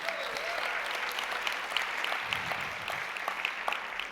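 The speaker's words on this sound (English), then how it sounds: "Can we give a round of applause for our community?" A round of applause from the crowd at a student entrepreneurship exhibition, continuous and moderately loud clapping with a few sharper claps standing out, no speech.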